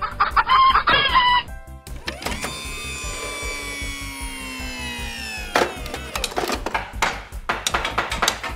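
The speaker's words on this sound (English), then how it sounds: "You've started clucking like a hen." A hen clucks and a rooster crows, fowl calls over a steady rhythmic tapping, fairly close and clear.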